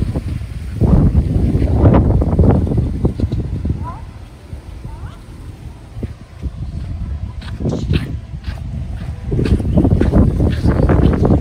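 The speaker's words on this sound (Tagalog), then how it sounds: "Mahangin." Strong gusting wind buffets the microphone in low rumbling bursts on a beach at Aqaba Bay, easing in the middle, with music and voices faintly in the background.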